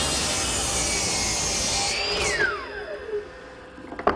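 A dado head cutter roughly 3/4 inch wide slicing a half-lap into a 2x3 stud, a loud sustained cutting whine that ends as the blade spins down with a falling pitch, followed by a couple of light knocks.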